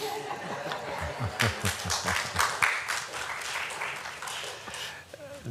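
Audience applause breaks out at a county commissioners land use meeting: scattered, moderately loud clapping mixed with light chuckles and laughter from the room.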